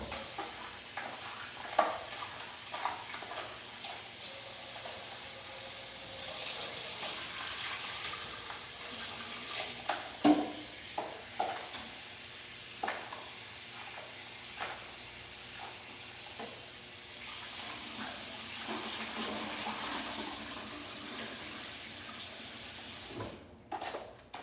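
Kitchen tap water running while washing out a bowl, a continuous hiss of flow with scattered clinks and splashes of handling, fairly close, no voices.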